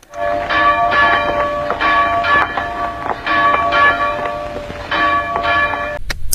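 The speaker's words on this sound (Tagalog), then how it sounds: "Sa umpisa ng pelikulang Totoy Bato, pagpatingting ng kampana, misa po iyon" A church bell rings out for mass at the San Diego de Alcala church in Polo, Valenzuela, with loud, repeated metallic strikes in a steady pattern and a ringing hum that lingers between them.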